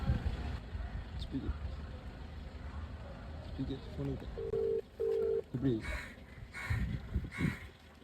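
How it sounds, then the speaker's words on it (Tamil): Phone keypad tones beep in two short, clear steady bursts over a busy background of crowd noise and voices, followed by further clattery sounds as a prank call is placed. "மக்களே வாங்க ஃபோன் பண்ணலாம்."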